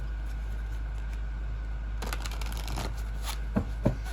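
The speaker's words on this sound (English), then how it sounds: "Okay, I'm shuffling them back in." Cards being shuffled in a quick riffle burst, close up, followed by a couple of soft taps as the deck settles; no talking.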